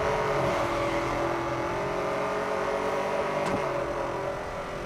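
Car engine and exhaust in Need for Speed Most Wanted (2012), a sustained loud drone with a steady rev and one brief sharp knock near the end, heard alone without talk.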